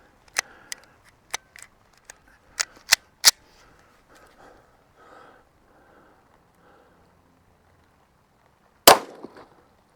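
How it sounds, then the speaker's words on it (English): Sharp, loud gunshots crack in a quick irregular series while a jamming bullet is test-fired, followed by a pause with quiet handling noises and one final loud shot near the end. "Three shots."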